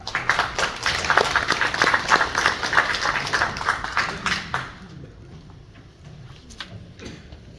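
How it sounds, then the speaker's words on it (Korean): Audience applause at a memorial academic lecture, brisk rhythmic clapping from a seated crowd for about four and a half seconds, then fading to a few scattered claps and room noise. "여러분 박수 한번 해주십시오."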